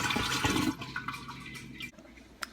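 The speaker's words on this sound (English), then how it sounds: "And now we just add the whole mixture into the kombucha starter." Pineapple ginger mixture pours into a kombucha starter jar with a gurgling splash of liquid that is strongest at first, then tapers into softer trickles and a few drips, fairly quiet and close.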